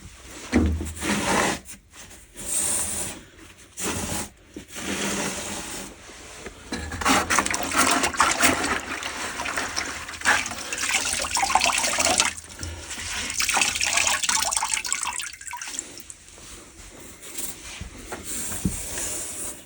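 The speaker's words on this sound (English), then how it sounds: "So we'll replace this bucket of thin set with a bucket of water, grab a sponge, clean this up a little bit" Water sloshing and wiping as a sponge cleans thin-set mortar off a shower drain bonding flange, in irregular wet bursts with brief pauses, close by and moderately loud, with no talking.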